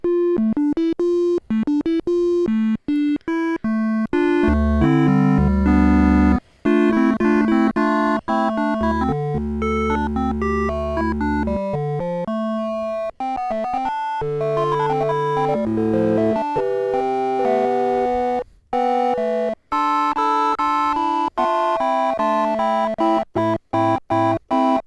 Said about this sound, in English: let's listen to what the triangle has to offer in the wave shape